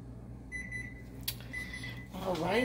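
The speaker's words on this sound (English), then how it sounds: "now that's the timer for my chicken" A kitchen timer for chicken baking in the oven gives short, quiet beeps over a low background hum in a home kitchen, with a voice briefly rising near the end.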